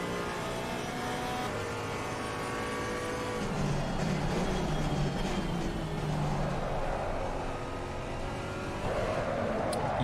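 Porsche race car engine in Assetto Corsa Competizione at the Nürburgring, revving and changing pitch through gear shifts with other cars' engines mixed in, a continuous moderately loud racing drone.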